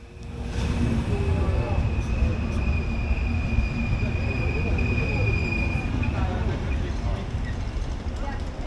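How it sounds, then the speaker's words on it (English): Railway cars of a RegioJet night train reverse slowly onto a platform with rumbling, a steady low grind and faint wheel squeal, continuous and fairly close, with no talk. "the rest of the train is reversed onto the platform"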